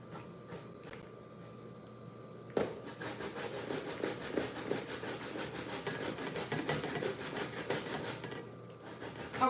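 Cassava rubbed against a hand grater in long, rapid rasping strokes, a steady scraping rhythm that starts after a few separate scrapes and goes on close and fairly quiet.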